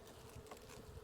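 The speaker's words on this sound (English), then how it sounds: "We may just be able to shake these bees out of here" Honey bees buzzing in a hive frame during an inspection, a brief, soft but clear droning hum with no voices.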